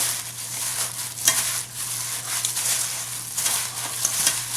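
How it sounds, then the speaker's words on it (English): Butter and sugar creamed by hand in a bowl for apple brownies, giving a soft, steady scraping and mashing with a few sharper strokes, close and fairly quiet, with a low constant hum underneath. "I just want to cream the butter and sugar together."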